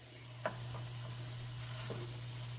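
Bulgur with celery, onion, green pepper and barbecue sauce simmering in a pan, a soft steady sizzle under a low hum, with a couple of light spoon taps.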